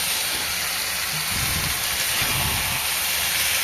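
Chicken sautés in a pan with a steady, loud sizzling hiss and some low clattering stirring, continuous and close with no one talking.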